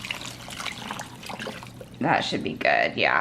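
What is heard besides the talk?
four cups of water being poured into a pot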